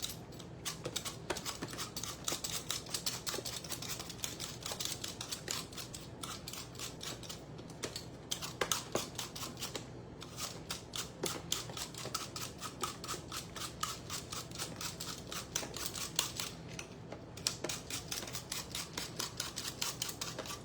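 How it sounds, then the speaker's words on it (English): A vegetable peeler scrapes food while Thanksgiving dishes are cooked, giving a quick, steady run of close, crisp rasping strokes that continues without pause and without talk. "So this isn't my preferred peeler, but this is a peeler that I have."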